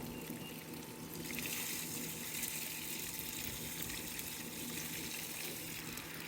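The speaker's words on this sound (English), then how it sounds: "Just keep pouring that water off." Water poured off a pot of wild Louisiana crawfish outdoors, a steady continuous gushing splash that stays even throughout, moderately close, with no talk.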